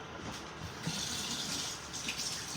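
A kitchen tap runs steadily into a sink while raw meat is rinsed for barbecue, an even close gush and splash of water with no voices.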